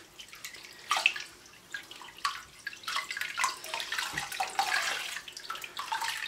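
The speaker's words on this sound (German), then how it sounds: "Die Schälchen sind auch ganz toll, um die Garne aus dem Wasser zu heben." Wool yarn being lifted out of a small bowl of water, with irregular drips and light splashes falling back into the water, close and fairly soft, no voices.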